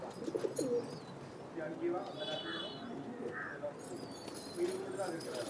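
Pigeons coo softly inside a pigeon loft in Coimbatore, low throaty murmurs repeating irregularly, with faint wing shuffles and occasional chirps, mostly quiet and close, while someone talks over them.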